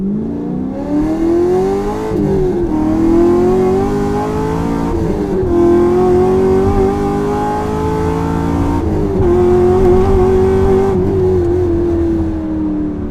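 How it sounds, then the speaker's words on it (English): Chevrolet Camaro Z28 with a naturally aspirated, dry-sumped 7-litre LS7 V8, loud close engine roar rising through several accelerating pulls with brief dips between gear changes, no talk. "This is a Z28 model. It's a 7-litre LS7 engine."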